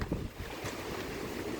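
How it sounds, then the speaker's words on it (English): Gusty wind blowing outdoors, rushing and buffeting the microphone in a steady broadband roar. "Oh, yes, it is windy."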